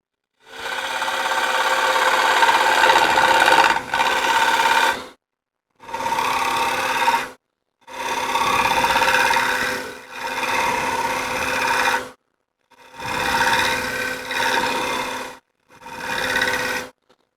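A wood lathe turns the outside of a dry bowl blank in six separate cutting passes, each a loud, rough scraping rasp over a steady machine hum, with short silent gaps between them.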